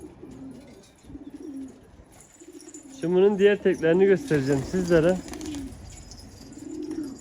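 Old-breed purple Istanbul pigeons coo in a burst of rolling, throaty calls at close range, following soft intermittent coos, while someone speaks over them.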